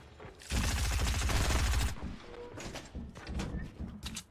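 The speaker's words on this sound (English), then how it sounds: "He's got a shotgun." A shotgun blast and rapid burst of gunfire in the Fortnite video game, loud and dense for about a second, followed by scattered footstep-like thuds and shorter shots.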